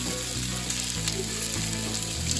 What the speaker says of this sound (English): You hear all that sizzle?